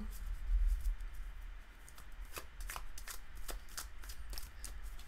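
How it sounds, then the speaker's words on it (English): Magic: The Gathering cards being riffle-shuffled up close, a run of crisp, fluttering bursts and soft riffles repeating over several seconds, with no speech. "let me shuffle up a little more here"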